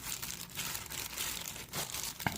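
Plastic bag crinkles softly as it is worked over raw burger meat while mixing by hand, faint irregular rustles and squishes up close.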